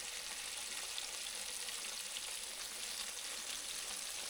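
Bluegill fillets frying in a pan make a steady, close, hissing sizzle that holds at an even level throughout, with no voices.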